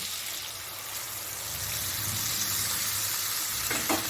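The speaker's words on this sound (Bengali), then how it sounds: "তারপর এর মধ্যে গরম জল দিয়ে দেবো আমি" Hot water is poured into a sizzling ridge gourd masala for a fish curry, and a steady frying hiss swells into a rushing pour close by.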